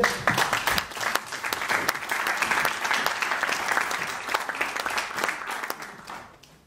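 An audience at a French music industry panel meeting claps in sustained, dense applause that holds steady for several seconds and then tapers off at the end.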